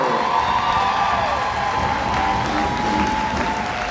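Loud, steady applause and cheering fill a gym during a high school girls basketball game between Mayer Lutheran and Minnehaha Academy. The crowd claps continuously and closely throughout, without a break.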